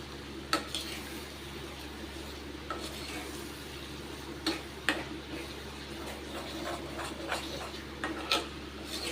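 Pirandai (veld grape) stirred and sautéed in a pan, with soft, scattered scraping strokes over a low, steady background hum. The sound is faint and close, with no talking.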